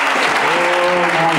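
A church congregation applauds steadily in a dense, continuous burst of clapping, with a voice carrying faintly beneath the crowd.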